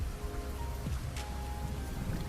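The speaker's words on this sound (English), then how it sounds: "the patter of water on pavement" Steady rain pattering on pavement, a dense even hiss of drops at close range, fairly soft, with no voices.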